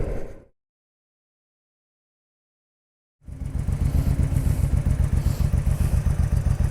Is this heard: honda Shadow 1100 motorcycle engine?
yes